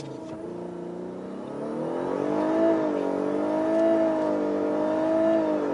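A Lexus LS 500h hybrid sedan accelerates toward 100 km/h, its engine droning and rising in pitch with smooth gear shifts, heard from inside the cabin; a brief word is spoken over it.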